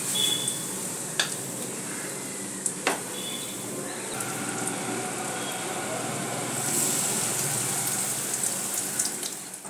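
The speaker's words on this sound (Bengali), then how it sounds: "দেখুন বন্ধুরা, এবার চপটাকে আমি ভাজছি।" Breadcrumb-coated chicken potato cutlet dipped in gram flour batter frying in hot oil, a steady soft hiss and crackle with occasional sharper pops, fairly quiet and continuous.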